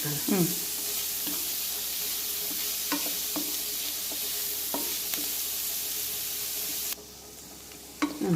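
Vegetables for upma sauté in a pan with a steady, close sizzle. Spatula strokes scrape and tap at irregular intervals, and the sizzle drops away near the end.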